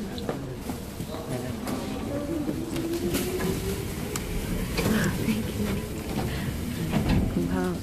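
A Tokyo train ride: a steady rolling rumble with rhythmic clacks and rattles over the tracks, while nearby voices chat on top of the noise throughout.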